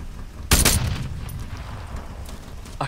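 Gunfire in the military shooter Arma III: a loud, sharp burst of shots around the half-second mark, followed by a lingering rumbling echo and a faint later report near the end.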